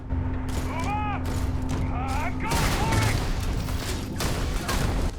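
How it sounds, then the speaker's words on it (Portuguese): Gunfire and an explosion in the video game Starfield, rapid shot bursts and a heavier blast over a continuous loud combat din, with someone speaking over it. "Explodiu o bagulho aqui do lado."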